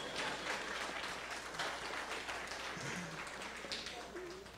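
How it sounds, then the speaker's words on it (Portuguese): Lecture audience at a semester-opening talk breaks into applause, a dense, even wash of clapping filling the room and easing slightly toward the end. "Uma salva de palmas aos sumérios."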